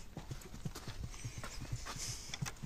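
A horse's hooves clip-clopping at a steady walking rhythm on a hard surface, close and fairly loud, from a farm where a stallion is bred with mares; no talking.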